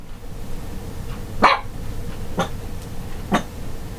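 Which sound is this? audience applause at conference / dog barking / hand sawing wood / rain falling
dog barking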